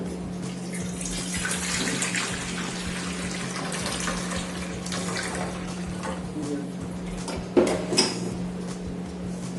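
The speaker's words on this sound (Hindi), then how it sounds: "ये आप कोई से भी आप मेटल की प्लेट ले सकते हैं या पतीला। इसमें भरेंगे पानी।" Water runs steadily into a metal plate or pot in a kitchen, a continuous splashing pour with a steady low hum beneath and a brief sharp clank near the end.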